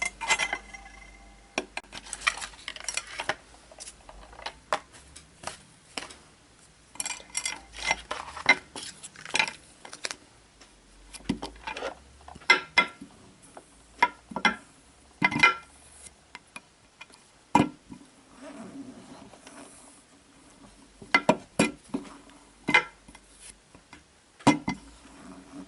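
Air dry clay (Padico Hearty) being rolled out on a glass work surface with a rolling pin, giving irregular light taps, clicks and scraping knocks in short bursts against near silence, with no talking.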